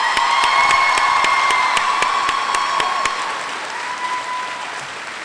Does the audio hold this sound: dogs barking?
no